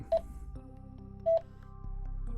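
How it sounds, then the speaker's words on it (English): Two short electronic roger beeps from an Amazon Basics FRS two-way radio, about a second apart, each a brief bright tone, over a faint steady hum. "this is your Roger beep"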